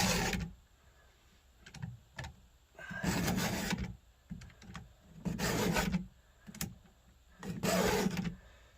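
A chainsaw chain is sharpened by hand in the field with a round file, giving rhythmic rasping strokes in groups separated by short pauses, close and clear with no talking.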